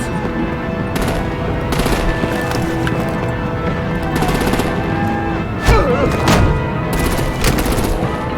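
Heavy artillery and automatic gunfire in the Batman: The Enemy Within game, a dense continuous barrage of loud close bursts and booms with rattling repeats, a heavy impact near the middle, and no clear talk.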